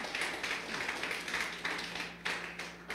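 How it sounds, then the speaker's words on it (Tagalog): A church congregation gives weak, scattered applause during a sermon, with light uneven claps pattering over a quiet, constant hum. "mahinang palakpak yan"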